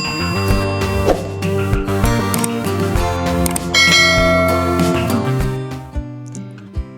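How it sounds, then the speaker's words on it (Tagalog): Loud ringing bells, several tones pealing and overlapping like a church carillon, sustained and then fading with a couple of final strikes. "Teacher's Bell."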